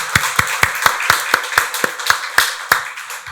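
A church congregation at a Sunday worship service claps in unison, about a dozen sharp, evenly spaced claps in a steady rhythm that carry clearly with little else around them.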